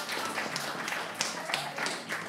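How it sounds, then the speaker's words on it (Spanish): Applause for a guest on a Spanish-language podcast, a small group clapping steadily and fairly close for a couple of seconds without pause. "Vamos a darle un aplauso a Armando."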